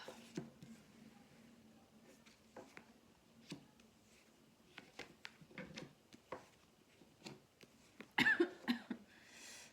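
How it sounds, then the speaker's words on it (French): Several short, quiet coughs and throat noises scattered through a hushed room, ending in a louder, harsher burst near the close. "je tousse un peu parce que du coup quand je parle ça tire sur mes cordes vocales"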